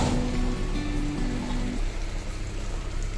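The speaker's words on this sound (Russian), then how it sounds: "наконец-то у нас пошел дождь." Heavy morning rain pours down outside a house, a loud, steady hiss of drops that continues unbroken throughout.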